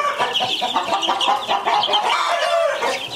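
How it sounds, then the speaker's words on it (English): Several hens cluck and squawk excitedly after laying eggs, in rapid, overlapping bursts, fairly close, a noisy run of cackling with no talking. "it really sounds like in the background here, we got some chickens there who laid an egg"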